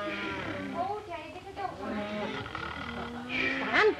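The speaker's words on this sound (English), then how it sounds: "Stan, it's wolves! Listen!" Wolves howl in a radio drama effect, long rising and falling cries layered over one another, with a louder wavering howl near the end.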